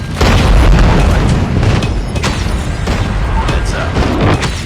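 Airstrike explosions from Call of Duty Mobile on the Shipment 1944 map in a 10v10 Domination match: loud, dense booms and blasts rolling almost without pause, with game voices calling out over the barrage.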